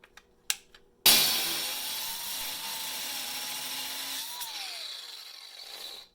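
A DeWalt DCG412B 20V MAX cordless 4-1/2-inch angle grinder spins up abruptly and cuts with a loud, steady high-pitched whine that holds for about five seconds before winding down, preceded by a few faint clicks.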